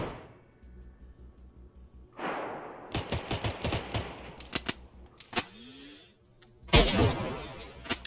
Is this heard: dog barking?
no